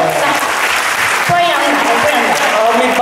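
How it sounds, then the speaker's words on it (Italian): Cabaret audience applauding in an encouraging round, steady dense clapping filling the whole stretch at close range, with a few voices and shouts mixed in. "Un applauso di incoraggiamento."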